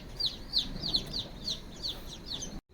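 Several country hens cluck in a soft, repeated rhythm nearby on a poultry farm, short calls every half second or so over a low background hum.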